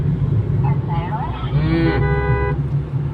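A cow on the road in Sanand moos loudly and close by, a long drawn-out call over the steady rumble of road and a moving bus's engine.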